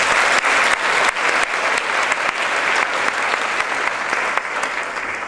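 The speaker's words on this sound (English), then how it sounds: "So give yourselves a round of applause for that." Steady, dense applause from a large audience fills the room after a speech, a broad wash of many hands clapping that holds at a fairly even level and fades slightly toward the end.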